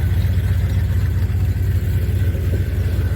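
A Chevy C10 truck engine idles close by, a loud, steady low rumble with an even pulsing rhythm and nothing else over it.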